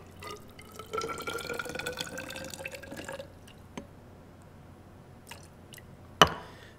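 Water poured into a measuring container for a cellular respiration lab, a brief trickling and splashing pour lasting a few seconds, followed by quieter small clinks and a sharp tap near the end; close and moderately quiet.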